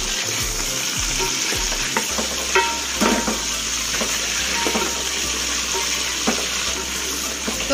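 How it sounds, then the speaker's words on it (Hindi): Potatoes frying in a pan, a loud, dense, continuous sizzle close up with occasional spatula scrapes and a low electrical hum underneath, no talking. "बस आलू को हम अच्छी तरीके से पहले फ्राई कर लेंगे"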